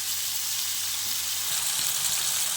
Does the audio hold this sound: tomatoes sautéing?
yes